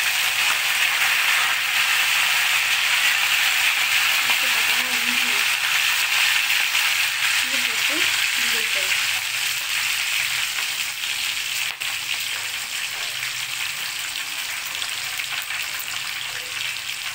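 Pepper and cumin sizzling in a hot pan for pongal, a loud, steady crackling fry with a few soft metallic scrapes of stirring in the middle.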